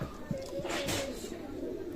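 Golden pigeons coo softly at a bird sellers' spot in Khulna, Bangladesh, with a faint low murmuring call heard against quiet background noise.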